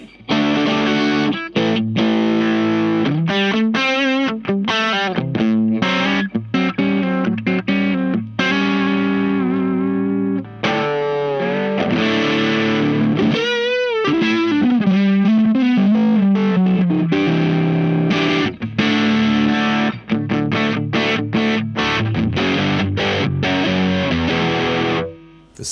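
A low-tuned electric guitar runs through a JCM800-style amp-in-a-box distortion pedal set for high gain. It plays thick, saturated chugs and sustained chords with short choppy breaks, loud and continuous throughout.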